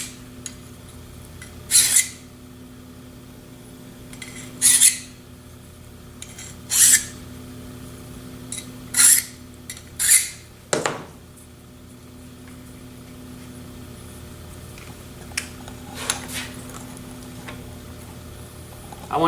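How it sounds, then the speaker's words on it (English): A file rasps across the edge of a machined part in several short, separated strokes with pauses between them, close and fairly loud over a faint background hum. "Deburring my part."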